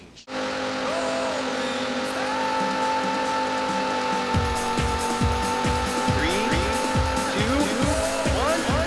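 Race cars in the Sega Saturn game Daytona USA roar loudly and continuously, engine tones rising and shifting as the cars accelerate, with repeated tire squeals and skids in the latter half.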